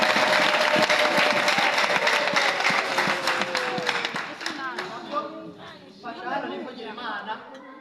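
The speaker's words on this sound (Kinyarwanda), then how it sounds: "Mubera amashyi Yesu, ibindi akabyikorera." A church congregation breaks into loud, dense applause that fades after about four seconds as voices take over.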